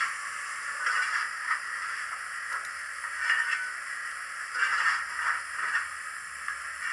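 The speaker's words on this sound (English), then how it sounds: "bit of coal shoveling" Scraping, gritty bursts of coal being shovelled come from a model steam locomotive's sound unit, repeating irregularly at a low, hissy level with no voices.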